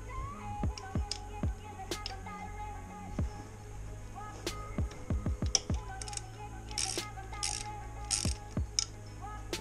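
Bolts being worked loose from the clutch cover of a DRZ-400 with an 8mm socket: scattered sharp metallic clicks and ratchet ticks, close and irregular, over a low steady hum.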